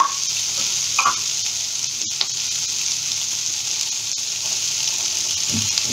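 Vegetables frying in a pan as sabudana is added for vrat-style sabudana khichdi, a steady close sizzle with a few faint soft stirring knocks and no talking.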